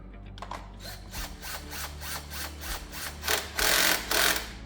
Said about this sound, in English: I'm taking my power tool here, and it has a clutch on it